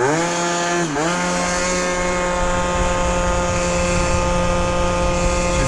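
A Yamaha Zuma scooter engine drones close and loud while being ridden, its buzzing pitch dipping briefly and then climbing and holding steady under throttle.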